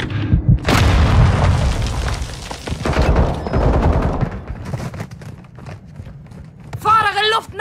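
Flashbang grenade bursts amid gunfire in a Modern Warfare 2 PC multiplayer match: a loud, near boom and crackling shots at the start, then scattered fainter firing, with in-game voices calling out over the action.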